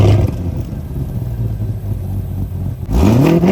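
A Chevrolet Corvette C8 idles loudly up close, then its engine blips into a sharp rev that climbs quickly in pitch near the end.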